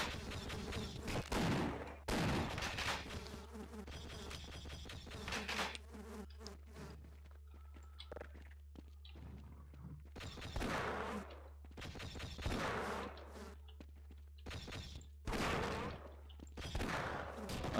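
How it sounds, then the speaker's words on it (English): Magnum revolver shots in Half-Life, several sharp loud bangs spaced apart amid game noise, a buzzing insect-like drone filling the gaps between shots. "Yeah, Magnum's pretty good against those"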